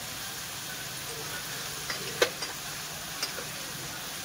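Onion, potato, carrot and cauliflower frying in oil for veg pulao, a steady close hiss of sizzling with a few light clicks of a utensil against the pan.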